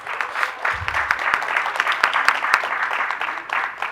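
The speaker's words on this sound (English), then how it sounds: "let's give Mr. Still a round of applause" Audience applause at a school board meeting, steady moderate clapping from a room of people with individual claps audible throughout, a brief low thump near the start.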